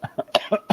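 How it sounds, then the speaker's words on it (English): A short burst of several rapid, harsh coughs, close by and fairly loud. "as I cough all over the place"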